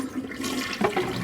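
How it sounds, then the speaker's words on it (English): A toilet flushes in one continuous rushing, gurgling swirl of water, fairly loud and close, with no talk over it. "Now flushing your poop."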